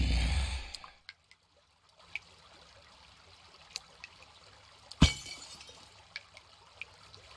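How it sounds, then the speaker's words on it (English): Flowing water in the Terraria video game gives faint trickling and scattered drips after a brief louder burst at the start, with one sharp splash-like hit midway. "Water's a little loud."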